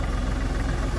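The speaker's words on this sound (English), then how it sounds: "So while the tractor's sitting there warming up to move the trailers around" LS XR4145C tractor engine idling while warming up, a steady low rumbling drone with even pulsing throb, close and continuous with no voices.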